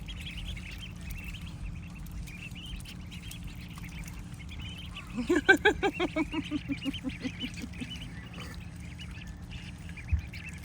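Ducks give a quick burst of about a dozen loud, rhythmic quacks that taper off, set against steady rain and faint background birdsong in a suburban garden.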